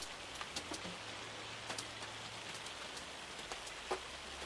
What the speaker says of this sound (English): Not just rain, it's hail.